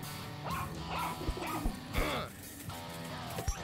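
A dog barks and yips repeatedly in the video game Dog Football, short strident woofs over a looping game soundtrack, moderately close and fairly quiet.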